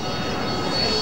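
A fixed-wing aircraft taking off at the 2001 Romanian International Airshow at Mihail Kogălniceanu, a steady, loud, broad engine roar that holds evenly throughout the second with no breaks.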